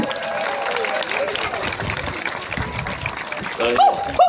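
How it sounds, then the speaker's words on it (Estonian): Crowd applauding at an outdoor children's festival mascot parade in Võru, with steady, moderately loud clapping and some chatter throughout, ending with a few brighter shouts. "No nii, aplaus!"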